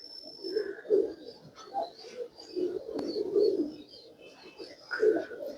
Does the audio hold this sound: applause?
no